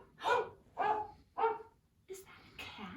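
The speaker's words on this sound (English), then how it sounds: "Let's all be a pack of running, barking dogs." A dog barks three times in a steady, evenly spaced rhythm, close and fairly loud, followed by two softer, higher yipping sounds.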